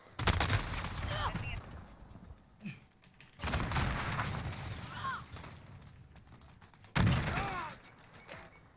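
M4A1 rifle fire in a video game: three long, loud automatic bursts, the middle one the longest, separated by brief lulls with faint mechanical clicks.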